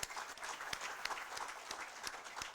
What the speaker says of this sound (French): À mon frère Claude Sénéchal, que je vous demande d'applaudir aussi s'il vous plaît